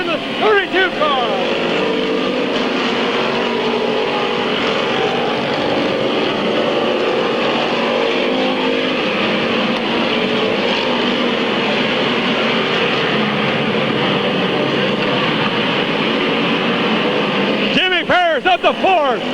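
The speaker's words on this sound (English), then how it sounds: "Here comes Jimmy Parrish in the 32 car" Race cars lap Midvale Speedway in 1996, a dense continuous engine roar from the pack that holds steady throughout, loud and close, while an announcer calls the race over it.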